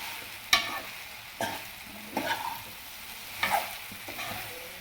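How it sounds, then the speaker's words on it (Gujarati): A tempering for bottle gourd muthiya sizzles in a pan, with several sharp spoon scrapes and stirring strokes punctuating a soft, steady hiss, close up and without talk. "આપણો વઘાર પણ બહુ મસ્ત બેઠો છે વઘાર કર્યો ને તો સુગંધ પણ બહુ મસ્ત આવે છે"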